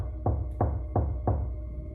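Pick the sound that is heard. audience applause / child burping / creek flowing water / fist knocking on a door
fist knocking on a door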